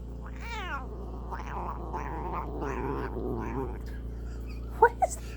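A cat gives a series of odd, rising and falling warbling meows and growl-like calls up close while being scratched on the back, followed by two sharp brief clicks near the end.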